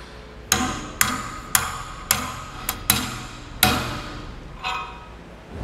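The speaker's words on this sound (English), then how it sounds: "We'll be using that old bolt once again to drive our bushings in." Hammer blows drive new leaf spring bushings into a curved equalizer for double-eye springs, using an old bolt as a drift: about eight sharp, ringing metallic strikes at a steady, unhurried pace, close and distinct over quiet background.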